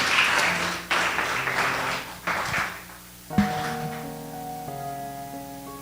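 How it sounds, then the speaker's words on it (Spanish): Applause from a church congregation at the close of a sermon, a broad burst of clapping that comes in waves, fades and is followed by sustained organ or keyboard tones. "bríndale un fuerte aplauso"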